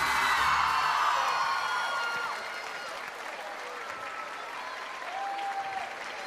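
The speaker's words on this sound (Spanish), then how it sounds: "un fuerte aplauso para él" Loud audience applause with whoops and yells at a televised charity show, sustained and roaring at first, then easing to a steadier wash of clapping and cheers.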